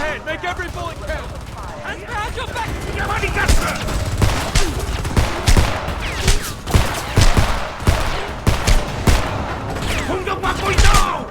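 Rapid gunfire in the Homefront video game, repeated sharp shots and automatic bursts coming in clusters over shouted combat voices, growing denser and louder in the second half.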